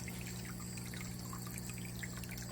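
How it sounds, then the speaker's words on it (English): Fresh rainwater trickling into a grow bag and sump in a DIY aquaponics setup, a faint, continuous, gentle dribble of water with a low steady hum beneath it. "fresh rainwater, goes down into the grow bag, goes into the sump and into the tank"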